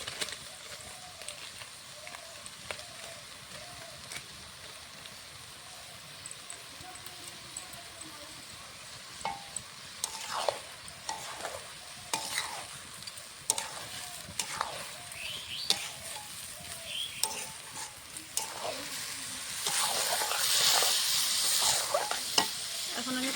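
Rice being fried and stirred with spices in a wok for Bengali egg pulao, a steady sizzle with repeated scraping stir strokes that grow louder and busier toward the end.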